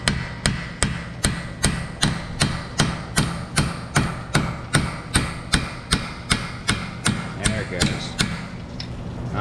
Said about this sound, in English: We're going to get ourselves a metal punch and a hefty hammer.